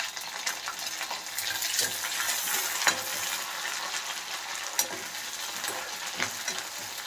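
Green chillies and curry leaves sizzle in hot oil for a spicy prawn fry, a steady, close crackling hiss with occasional sharper pops and stirring, no voices over it.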